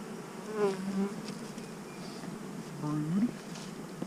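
Honeybees buzz steadily close by while an overwintered hive is opened for inspection, the drone swelling in two louder passes with rising whines as bees fly past, alone without talk.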